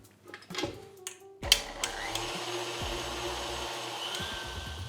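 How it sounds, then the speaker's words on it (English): Stand mixer whisking egg yolks with granulated white sugar for a lemon white chocolate torta: a few clatters, then a steady, fairly loud motor whir that holds on and on. "Then whisk these up for a few minutes until they're pale and fluffy."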